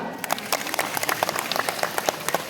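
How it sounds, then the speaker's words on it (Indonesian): A crowd at an Isra Mi'raj tabligh akbar religious gathering claps in applause, a dense, steady patter of many hands at moderate distance, continuing without talk. "Tepuk tangan dulu untuk Almaira."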